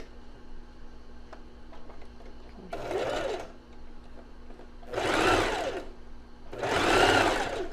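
A sewing machine stitches lace onto fabric and finishes with a backstitch, sounding in three bursts of rapid mechanical stitching that grow louder, separated by quiet pauses.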